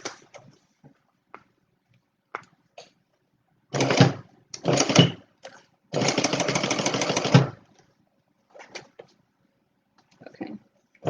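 A sewing machine stitching a zipper seam with a zipper foot on a Stella Weekender bag: short whirring runs, then a steady sustained burst of about a second and a half, close and fairly loud amid quiet pauses.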